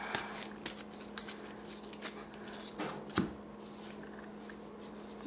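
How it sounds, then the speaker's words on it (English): A deck of Pokemon trading cards from a Night March competitive deck is shuffled by hand, giving soft riffling and sharp snapping taps at an irregular pace, close and fairly quiet, with no talking. "I also get a good shuffle here"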